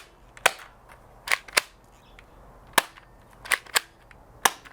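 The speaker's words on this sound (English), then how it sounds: "we're gonna go shoot this blaster a little bit" A Nerf Gelfire Legion gel blaster fires a string of sharp, snappy shots, about eight separate pops spaced irregularly over a few seconds, each crisp and close against a quiet background without speech.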